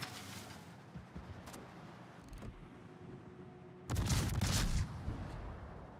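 Secondary and anti-aircraft guns fire in a naval combat game, a sustained low rumble of gunfire with scattered sharp reports and a loud burst of volleys near the end.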